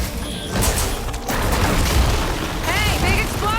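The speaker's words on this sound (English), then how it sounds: "Hey, big explosion!" A big explosion in the video game Horizon Forbidden West, The Burning Shores, set off by detonating glowing crystals: loud booming bursts and crashing debris, followed by a rising whooshing effect.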